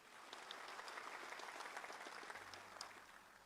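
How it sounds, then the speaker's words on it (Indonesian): A seated audience at an Indonesian state ceremony claps steadily, a dense wash of many hands heard from a distance and fairly faint throughout. "Jadi tepuk tangannya itu sambil duduk saja."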